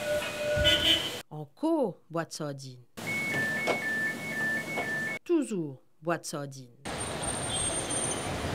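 Metro train ride in the early morning, with a continuous rumble of the moving carriage and high electric whines rising and falling, broken by short gaps where people talk nearby.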